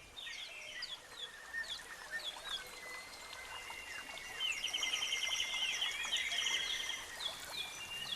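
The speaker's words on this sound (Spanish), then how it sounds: "arropado por el sonido del canto de los pájaros" Birds sing inside an Austrian palace grotto: bright, high chirps and trills repeat throughout over a steady background trickle of water, with no voices.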